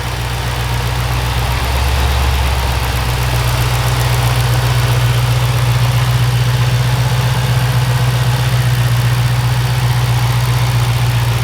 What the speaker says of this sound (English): Engine is running nice and smooth.